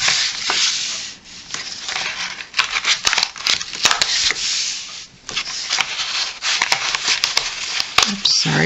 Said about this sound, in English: peel off the backing, and then fold them